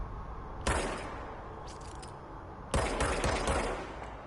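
A gun in the video game Control fires two separate bursts about two seconds apart, each a loud crack with a rattling tail, over a steady background hum.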